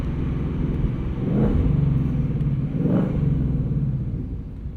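Low, steady exhaust rumble from a 2024 Ford Mustang Dark Horse cruising at low speed, close and continuous, swelling slightly twice as the engine pulls.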